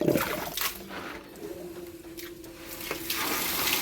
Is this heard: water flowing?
yes